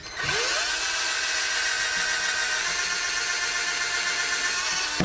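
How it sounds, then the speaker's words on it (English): A power drill runs continuously at steady speed, boring screw holes into solar oven boards. The whine starts sharply and holds loud and close for the whole stretch with no pauses. "I'm just going to drill the holes further down so the screws go in okay"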